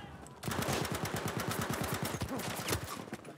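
Rapid automatic gunfire from a submachine gun in the shooter game Battlefield V, a dense, loud burst of fast regular shots running almost continuously after a brief quiet start.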